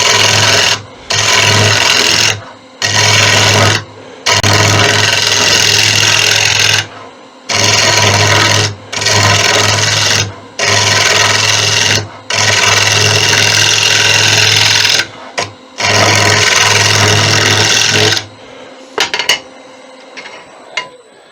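A bowl gouge cuts a spalted sycamore vase spinning on a wood lathe: repeated close bursts of scraping, rasping cuts over a steady motor hum, with short pauses between passes and the lathe running on more quietly at the end.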